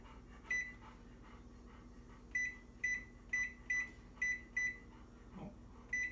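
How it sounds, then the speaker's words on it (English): Oven control panel being set to preheat to 375: a series of short, high electronic beeps, about eight in irregular rhythm, close and fairly quiet over a low background hum. "I'm going to preheat my oven to"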